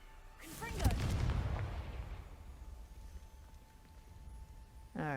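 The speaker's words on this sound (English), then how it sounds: "Confringo!" A Confringo blasting spell in the Hogwarts Legacy video game goes off with one loud, booming blast. Its rumbling tail decays over several seconds, and a brief voice sounds at the start.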